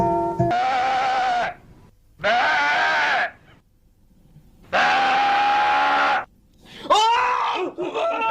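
A distressed male goat bleats loudly and up close in long, drawn-out wavering cries, three sustained calls separated by short pauses, then a shakier, broken cry at the end.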